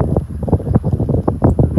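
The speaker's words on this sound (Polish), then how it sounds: "jak wieje, bo wiatr jest" Wind blows outdoors at rice terraces, buffeting the microphone in loud, choppy low rumbles and gusts that stay close and continuous.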